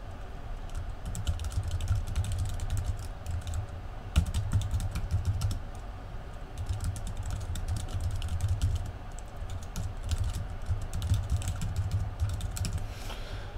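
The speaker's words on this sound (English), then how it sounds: "I can type in overall feedback comments" Typing on a computer keyboard, a quiet, continuous run of rapid key clicks in uneven bursts with short pauses, close to the microphone in a quiet room.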